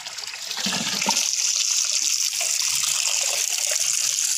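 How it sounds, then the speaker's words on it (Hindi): Water is poured into a container while preparing a soda mixture, a continuous splashing trickle that builds quickly and holds steady, with no talking. "पानी डालते हैं"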